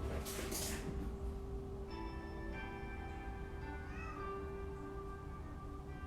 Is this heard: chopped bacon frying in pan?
no